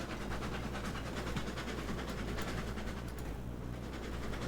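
A locomotive runs in Railroads Online with a steady, continuous mechanical rumble and clatter, loud and unbroken throughout, no voices.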